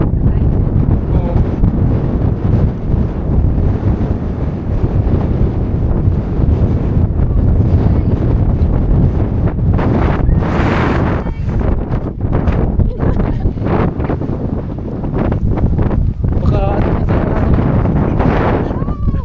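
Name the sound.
wind blowing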